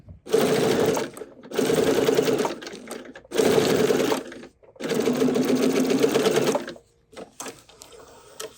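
A sewing machine fitted with a gathering foot runs in four steady bursts of close, loud stitching, each a few seconds long, separated by short pauses.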